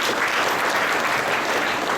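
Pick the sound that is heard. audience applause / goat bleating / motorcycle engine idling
audience applause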